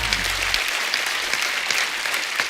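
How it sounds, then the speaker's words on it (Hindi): A studio audience at a televised Hindi comedy talk show claps loudly and continuously, a dense, even wash of applause with no voices over it. "इस बात के लिए तालियां पहले तो"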